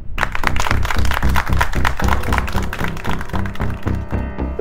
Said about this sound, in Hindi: तालियां बजा रहे नवाब साहब के लिए